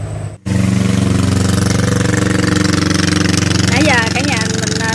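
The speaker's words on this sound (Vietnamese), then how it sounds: "Nãy giờ cả nhà mình xem video là thấy toàn là ghe ha, người ta lưu thông bằng ghe nhiều hơn" A motor boat carries coconuts, bananas and pomelos along a river, its engine a steady loud drone close by, with a voice speaking over it for the latter part.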